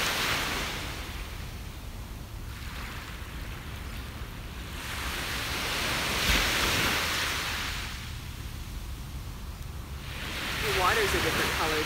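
Ocean waves roll in and wash up on a beach, swelling and receding in steady cycles with breezy background noise.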